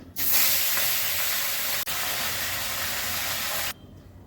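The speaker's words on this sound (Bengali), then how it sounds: "প্রথমেই আমি মাছগুলো ভেজে নিচ্ছি। বাকি মাছগুলো ভেজে নিচ্ছি।" Pieces of rohu fish frying in hot oil in a home kitchen give a loud, steady broadband sizzle that holds for about three and a half seconds, with one brief dip partway through, then cuts off.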